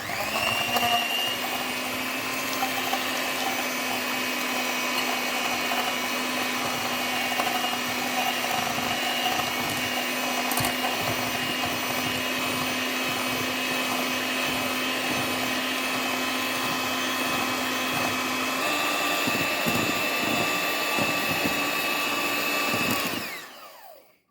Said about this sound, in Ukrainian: спочатку збити яйця з цукром, щоб у нас розтворився цукор і яйця до однородної маси